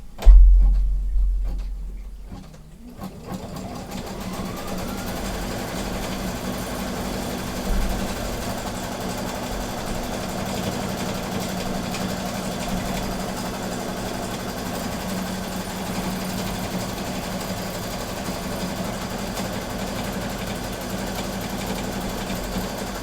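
A Brother Luminaire embroidery machine stitches a tack down line, a steady close mechanical whir with a fast even needle rhythm running continuously after a brief quieter start.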